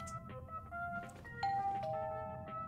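A doorbell chime rings in the Star Wars Skywalker Saga video game, a few clear tonal notes sounding over low game ambience and music, ending in a brief loud knock.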